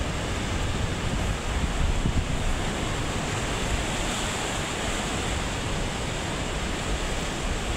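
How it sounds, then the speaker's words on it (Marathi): Floodwater of the Manjra river pours over a dam after heavy rain, a dense, steady roar of rushing water that fills the whole clip with no break. "हे ना पाणी पूर्ण डॅमच्या वरून गेलेलं आहे."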